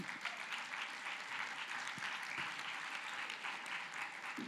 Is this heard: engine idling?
no